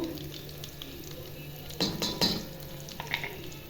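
A spoon stirs a snack mix of green chillies, peanuts, roasted gram and turmeric, giving soft scraping and a few brief clinks over a steady low background hiss.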